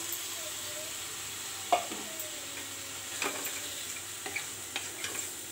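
Tomato added to a frying pan for restaurant-style aloo masala, a faint steady sizzle with a few light clinks and taps of stirring, quiet and close, no voice.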